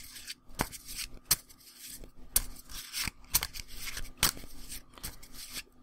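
Pathfinder Adventure Card Game cards, some in sleeves, are shuffled close up in quick riffles and snaps, with sharp flicks and soft rubbing between bursts.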